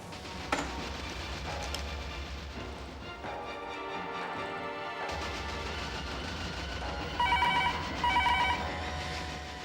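A telephone bell rings in repeated short bursts over a busy background of noise and music, clear and fairly close.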